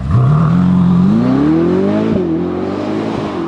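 A tuned 1200 hp Ferrari SF90 hybrid supercar accelerates hard, heard from outside, its engine note climbing steadily in pitch with a smooth electric-sounding whir, loud and close, then easing briefly before pulling again.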